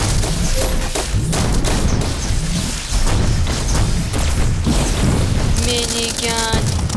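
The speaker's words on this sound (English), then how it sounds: "Minigun!" A minigun fires in the plane combat game Altitude, dense rapid bursts and booming impacts layered in a loud, chaotic barrage, with a brief electronic tone near the end and no clear talk.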